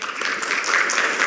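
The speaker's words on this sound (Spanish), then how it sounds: "Lo recibimos con un fuerte aplauso." An audience at a sustainability week conference applauds as a speaker is welcomed, a steady, dense wash of many hands clapping together, fairly loud and sustained throughout the short moment with no talking.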